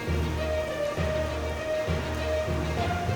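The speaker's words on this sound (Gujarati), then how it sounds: "ફૂલ વરસાદ ચાલુ છે અત્યારે હાલ રાધનપુરમાં" Heavy rain pours down in Radhanpur, Gujarat, during a storm and cloudburst, making a steady, dense roar that stays even and constant from start to finish, with no voices.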